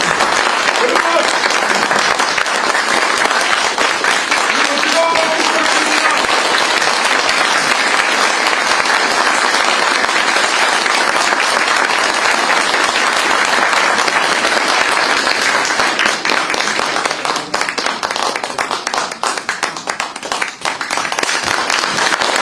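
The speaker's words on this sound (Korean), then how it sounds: "다시 한번 큰 박수 부탁드립니다." A large audience applauds loudly and steadily for the whole stretch, a dense wash of clapping that thins slightly near the end.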